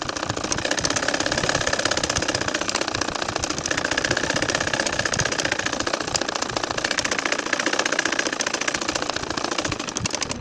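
A sewing machine stitching a nakshi kantha quilt runs at a rapid, even mechanical chatter, loud and close for the whole stretch without pauses or voices.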